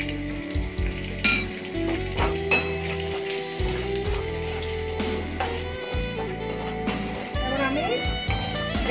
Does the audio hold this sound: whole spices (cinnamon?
yes